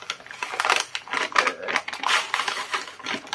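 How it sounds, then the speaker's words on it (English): Parcel packaging being handled and crinkled up close, giving irregular crackly bursts and rustles in quick succession. "Sorry, I'm crinkling now."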